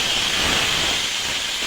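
Ground black mustard, cumin and green chili paste frying in hot oil in a pan, a steady, loud broadband hiss and sizzle that holds even throughout, with no voices.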